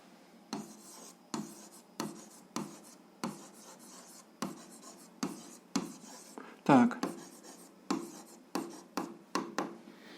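Pen or marker writing an algebra equation by hand on a surface, heard as a steady series of short scratchy strokes, each stroke a separate rasp, with no talking.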